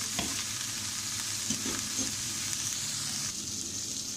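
Beef liver frying in a pan with tomatoes, garlic and green chillies, a steady close sizzle throughout with soft scraping thuds of stirring now and then, no talking.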